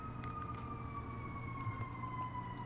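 A faint ambulance siren in the video game Resident Evil 2 Remake holds steady wailing tones over a low rumble, with a few soft clicks and no talk.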